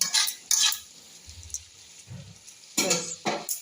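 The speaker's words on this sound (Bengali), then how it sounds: "ধনে গুঁড়ো জিরে গুঁড়োটাকে ভালো করে মিক্স করে আবার একটু ঢাকা দিয়ে দেবো" Stirring ground coriander and cumin into bottle gourd cooking in a pan: a few scraping, clinking strokes of a spoon against the pot, loud and close, with quieter soft bumps between them.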